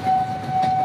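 A KRL commuter train rumbles past at a level crossing with a steady tonal whine riding over the rolling noise, loud and close for a brief moment.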